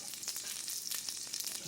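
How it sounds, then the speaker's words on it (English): Basil pesto stuffed chicken breast sizzles steadily in a frying pan, a dense, crackling hiss with small pops, fairly quiet and heard on its own. "we're going to put it in the frying pan right now"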